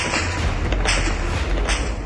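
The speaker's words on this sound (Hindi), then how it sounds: "वेस्ट बैंक के नूर शम्स कैंप में क्या चल रहा है, गोलियों की आवाज से अंदाजा हो रहा है" Gunfire at Nur Shams camp in the West Bank: a few sharp, loud reports burst over a constant heavy rumble of noise and low thuds.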